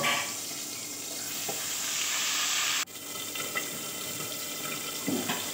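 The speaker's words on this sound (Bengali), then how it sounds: "হালকা জল দিয়ে আমি মশলাটা ভালো করে কষিয়ে নিই" Spice paste of salt, turmeric, chili, cumin and coriander powder sizzles with fried potatoes in a pan, loosened with a splash of water; a steady close hiss with a sharp break midway and faint clinks.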